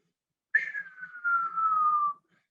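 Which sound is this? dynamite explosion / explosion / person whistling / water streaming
person whistling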